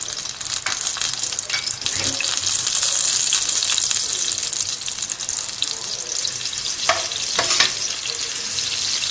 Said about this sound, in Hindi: हमने प्याज डाल के हम इसे फ्राई कर लेंगे